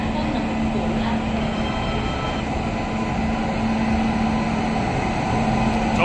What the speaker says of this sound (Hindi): 1417 Haridwar Bikaner express from Haridwar via Saharanpur Hisar to Bikaner junction is arriving platform number 4